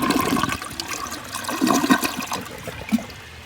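A vintage toilet flushes nearby, water rushing and gurgling through the bowl over a few seconds, with surging pulses as it drains.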